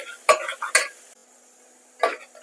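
Green chillies and onions being stirred in a cooking pan: a few short, bright scrapes and clinks of a utensil against the pan, spaced apart with quiet gaps between them.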